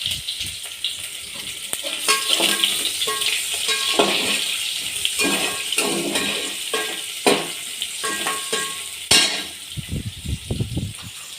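Onion dropped into crackling hot oil with bay leaf for chicken biryani, a steady bright sizzle with stirring clatter and a few sharper bursts, close and continuous, no talking.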